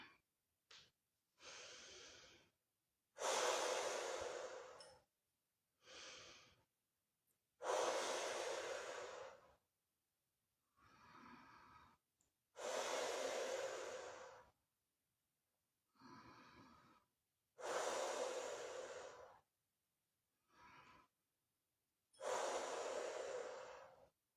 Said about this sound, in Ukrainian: видих через рот сильний.